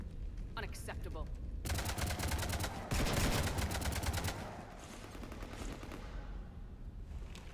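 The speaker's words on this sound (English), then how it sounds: "You want to stop shooting up my ship?" Sustained automatic gunfire raking a ship in a sci-fi video game, loud rapid bursts that build to a peak midway, then fade into a lower rumble, with a voice briefly speaking early on.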